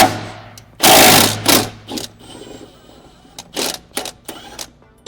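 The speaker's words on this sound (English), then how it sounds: "So put the wrench on, we can hold the nut, then impact this off." A pneumatic impact wrench rattles a 17 mm nut off a Honda S2000 coilover, sounding in several short loud bursts with quieter mechanical clicks and handling noise between them.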